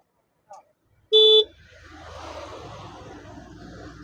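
Horn of an Ampere Nexus electric scooter gives one short, loud, steady toot after a faint click, followed by low background noise.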